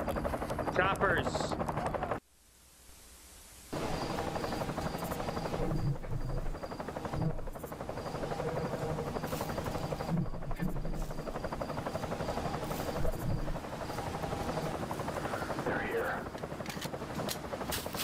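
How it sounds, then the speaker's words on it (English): Helicopters roar steadily through an action video game, a continuous rotor drone with a brief dropout near the start, while players talk over it. "Choppers!"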